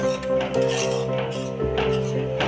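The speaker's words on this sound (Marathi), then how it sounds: "तोपर्यंत आपल्याला हे असं ढवळत राहायचंय" A spoon stirs thick rice-flour kurdai mixture in a pan, giving close, steady scraping and clinking with a few sharper knocks against the metal, and no talking.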